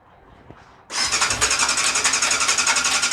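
A stock, carbureted 1998 Yamaha YZF 600R Thundercat sportbike engine starts after a short crank, then settles into a loud, steady idle close by.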